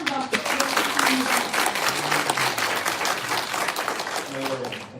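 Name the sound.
audience applause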